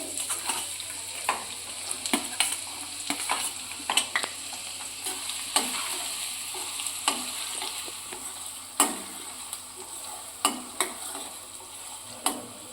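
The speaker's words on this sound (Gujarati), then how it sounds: "હવે આપણે એમાં ડુંગળી નાખીશું ઝીણી સમારેલી" Finely chopped onion fries with cumin seeds in hot oil, a steady close sizzle broken by sharp scrapes and taps of a spoon stirring the pan at irregular intervals, with no talking.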